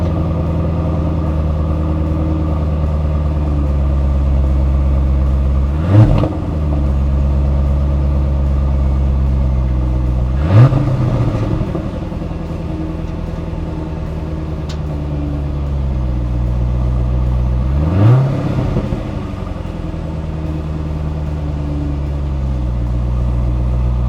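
A 2001 Corvette Z06 engine runs steadily up close while driving, with three distinct surges where it revs up and drops back, spaced several seconds apart.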